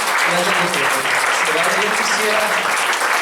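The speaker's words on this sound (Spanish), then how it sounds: "Dale un fuerte aplauso al Señor, amén." A church congregation claps loudly and continuously, dense applause filling the space while someone speaks over it.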